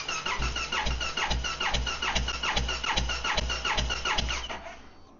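Starter cranking an engine with one spark plug removed for a cylinder compression test, a steady rhythmic chug of about a dozen even compression strokes, close and loud, then stopping at the end.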